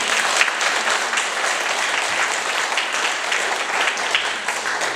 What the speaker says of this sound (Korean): 한번 박수 하십니다